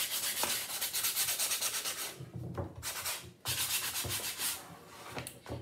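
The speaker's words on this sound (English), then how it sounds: "And this is what makes it look antique and aged, is this kind of sandpaper effect that we're doing." Sandpaper is rubbed over a painted wooden heart craft piece, a close, rhythmic scratchy rasping in repeated strokes with brief pauses between bursts, clear and without talk.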